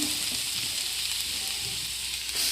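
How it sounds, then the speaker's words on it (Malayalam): Grated beetroot hits hot oil with popped mustard seeds for a Kerala thoran, a loud, steady close-up sizzle that hisses on without pause. "കടുക് പൊട്ടിയിട്ടുണ്ട്, നമുക്ക് ഇതിലേക്ക് ഇട്ട് കൊടുക്കാം"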